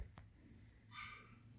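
A dog barks once or twice at a distance, faint and brief, against a quiet indoor background in a resin-crafting workshop.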